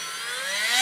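A cordless drill whirs steadily up to speed in a workshop, a close, rising motor whine of under a second with no talk.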